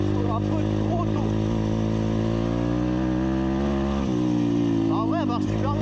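A 150 mini motocross bike engine, running a bit rich, revs up and holds near an early rev limiter, a loud buzzing drone with fluttering pitch and a brief drop midway, while someone talks over it.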